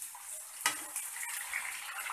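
Onion and thick potato chunks fry lightly in oil in a kadai, giving a soft, steady sizzle with a brief clink near the start, no voices.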